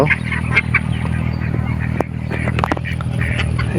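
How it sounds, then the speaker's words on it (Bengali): Ducks on a village wetland quack and honk in short, scattered calls at middle distance over a constant low background hum. "এই দেখুন হাঁসেরা খেলা করতেছে, কত সুন্দর দৃশ্য।"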